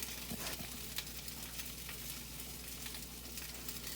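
Pizza reheating in a hot oven pan gives a faint, continuous sizzle and crackle, with a low steady oven hum underneath and small pops scattered throughout, and no voices.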